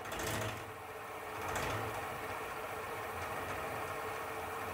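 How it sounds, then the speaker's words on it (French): Honey extractor spinning frames of forest honey, a steady low mechanical whir and hum with faint rattling, quiet and continuous with no speech. "vu que l'extracteur tourne à la même vitesse, tous les cadres vont extraire à la même vitesse"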